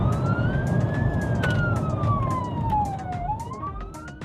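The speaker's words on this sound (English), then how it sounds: "The sirens of the police cars can be heard approaching." Police car sirens approaching in a video game, a steady wail rising and falling in pitch over a dense rumble of traffic and engine noise, loud and close, with faint clicks scattered through.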